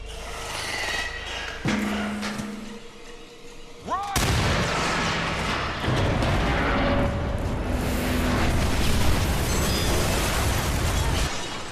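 A loud explosion booms in the video game Until Dawn, bursting suddenly after quieter game sounds and trailing into a long, rumbling roar of blast noise and debris that fills the rest of the stretch.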